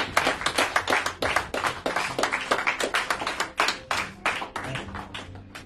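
A church congregation claps in steady, rhythmic unison, about two to three sharp claps per second, loud and close, with faint voices underneath.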